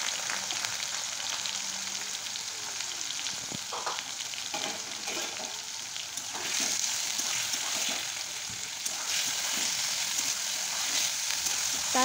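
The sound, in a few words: ridge gourd and potato frying in mustard oil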